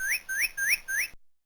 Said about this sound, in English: Look, it's a bird.